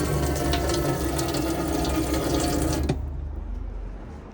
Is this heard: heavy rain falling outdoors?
no